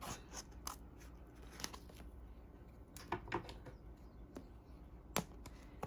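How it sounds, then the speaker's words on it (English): Scissors snipping off excess fabric during a sewing project for a file folder ephemera holder: faint, sparse cuts and crisp snips over a quiet background. "go ahead and cut that off because you don't want to sew that down"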